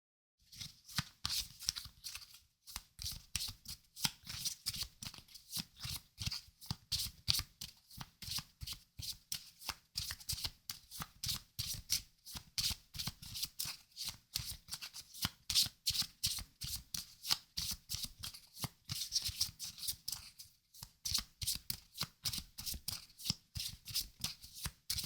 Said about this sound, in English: Let's shuffle up so we can pass to the next person.